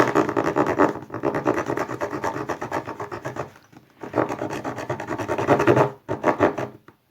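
Loud, close rasping strokes of a cafeteria knife sawing back and forth through something hard, in a steady rhythm broken by two short pauses.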